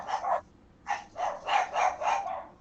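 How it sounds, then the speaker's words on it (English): Several dogs barking at a wrestling match, a quick irregular run of sharp barks and yips that sounds fairly close and stands alone without talk. "The dogs do not like this match."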